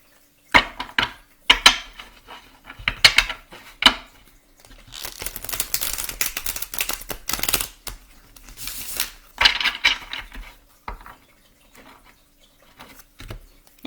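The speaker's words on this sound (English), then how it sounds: "Thank you for bearing with me with the shuffling." Tarot cards shuffled by hand, a run of crisp riffling bursts and papery flutters with short pauses between them, close and fairly loud, no voices.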